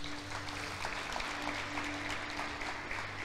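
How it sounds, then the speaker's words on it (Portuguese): A church congregation applauds during a Portuguese-language sermon, a soft, fairly distant patter of clapping with a steady low hum underneath. "E aplauda o Senhor por isso."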